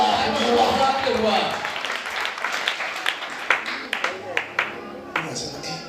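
A church congregation claps during a live service: a dense wash of applause gives way to scattered, uneven hand claps, with voices talking and calling out over it.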